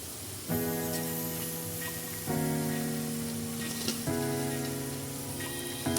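Potato bhaji with coriander sizzling steadily in a hot pan, a loud continuous fry with stirring scrapes and faint tonal clinks recurring every couple of seconds, close and without speech.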